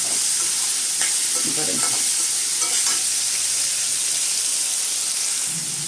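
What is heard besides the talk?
beans and carrots being sautéed in a pan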